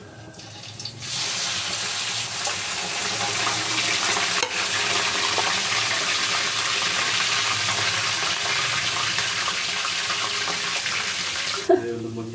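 Liver pieces go into a hot frying pan of oil and sizzle loudly and steadily, a dense hiss that holds for about ten seconds before cutting off, with a brief clatter near the end.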